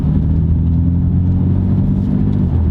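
A 2018 BMW M4 Competition F82 with its S55 3-liter inline-six M engine, a loud steady low rumble with layered engine harmonics under load, continuous and close with no talk.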